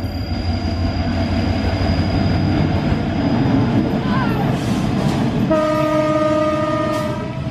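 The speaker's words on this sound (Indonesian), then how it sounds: "ini adalah gerbong kereta api tipe CC201 lagi" A CC201 diesel locomotive hauling cargo wagons rumbles past close by, its horn blaring in a sustained tonal blast near the end over the continuous roar of the train.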